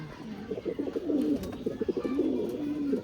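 A pigeon of an old bloodline coos repeatedly at close range, a series of low, rolling, throaty coos repeating steadily in a quiet setting.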